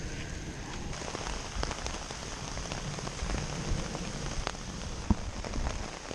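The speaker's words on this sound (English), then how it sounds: "we're getting rained on pretty good now" Steady rain patters down on a campsite, a dense, even hiss of drops striking surfaces with a few sharper nearby taps, continuous and without speech.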